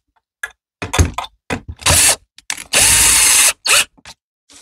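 A power drill drives a screw into a wooden table, with several short whirring bursts and two longer runs, loud and close, with ratcheting clicks between pulls and no talk.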